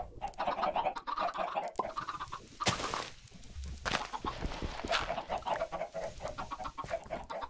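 Repeated Minecraft chicken clucks and squawks in quick, uneven bursts, fairly close and clear, with a couple of brief sharp noises breaking in.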